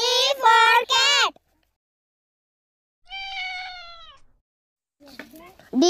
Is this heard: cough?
no